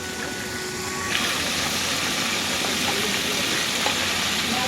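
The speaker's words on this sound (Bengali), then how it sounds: "দেখো সব ফ্রাই হচ্ছে।" Fish fry in hot oil at a beach food stall in Digha, giving a continuous loud sizzle and crackle that holds steady throughout with faint background bustle.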